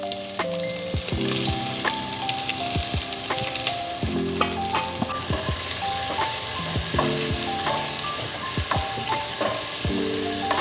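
Onions sizzle and fry in hot oil inside a pressure cooker, a steady crackling hiss with scattered sharp pops and stirring clinks, close and continuous without talk.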